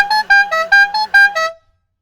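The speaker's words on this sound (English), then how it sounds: "The air horns do work." Air horns on a Japanese-style scooter blast six quick, loud, bright honks in a rapid, even rhythm, then cut to silence, close and alone.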